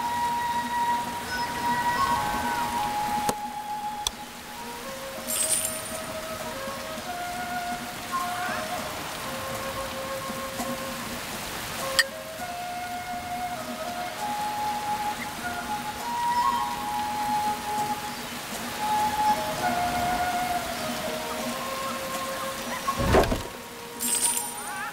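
Rain falling during a rainy season in The Settlers video game, a steady soft patter of drops with occasional sharper taps and brief clicks, fairly quiet and continuous.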